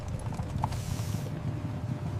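Horse hooves clip-clop in a quick, steady rhythm, faint and somewhat distant. A soft background hiss runs beneath the brief run of hoofbeats.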